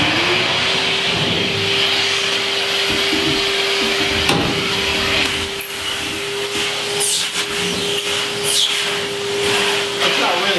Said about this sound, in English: but the vacuum used to suck the water off the screen